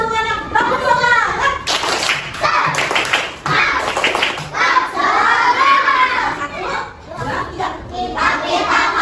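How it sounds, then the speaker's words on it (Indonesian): A classroom group of children clapping together in a rhythmic spirit clap, sharp hand claps in bursts mixed with children's voices and shouting throughout, loud and close. "coba tepuk semangat dulu semuanya. Tepuk semangat."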